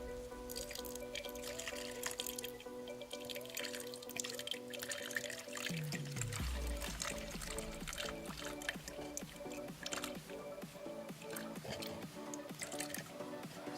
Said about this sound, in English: you can pour activator up to the 5 line